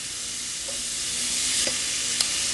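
Sweet pepper sizzles in a hot pot of Bahamian crab and rice, a steady close frying hiss broken by a few faint clinks and scrapes of stirring.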